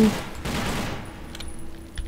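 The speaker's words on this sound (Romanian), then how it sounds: "până acum nu s-a întâmplat nimic altceva decât împușcături adiționale" Gunfire in the first-person shooter TimeShift: a dense, noisy burst of rapid automatic fire that fades after about a second, leaving fainter scattered shots and game ambience.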